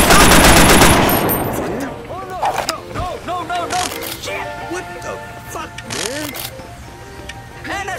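Gunfire in a shooter video game opens with a loud, sustained rattling burst that fades. Sparser cracks follow under frantic shouting from a player.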